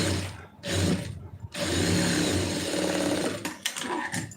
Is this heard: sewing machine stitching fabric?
yes